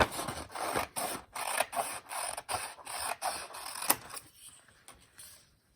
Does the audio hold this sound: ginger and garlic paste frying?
no